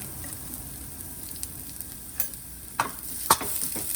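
Samosa and kachori filling with spices is stirred in a frying pan, a low constant sizzle broken by a few sharp scrapes and clicks of the spoon that grow more frequent toward the end, close up with no talking.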